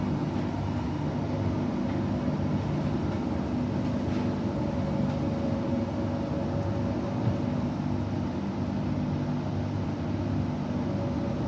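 Low continuous rumble and rolling hum of a train pulling into platform 1 at Bassendean station on the Midland line, steady and loud throughout with faint squeals above.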